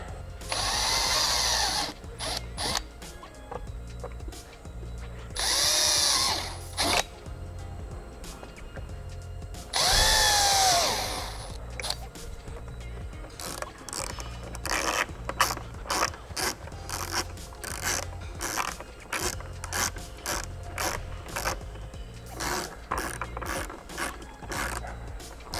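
Bolts driven in with a cordless drill or impact driver while fitting a carbon fiber rear diffuser to a 2023+ Nissan Z, in several loud whirring bursts with ratcheting clicks and rattles between them, close up and with no talking.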